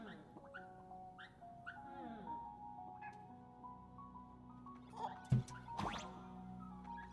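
Cartoonish dogs in the video game Honkai: Star Rail whimper and yip in short repeated calls over a steady musical background, with a couple of sharp louder hits near the end.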